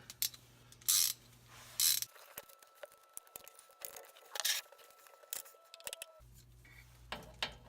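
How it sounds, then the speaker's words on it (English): A ratchet wrench with a 10mm socket tightens a bolt on the rear differential of a C6 Corvette. Short bursts of close mechanical clicking come in spaced groups against a quiet workshop background. "Then you'll take your wrench with your 10mm."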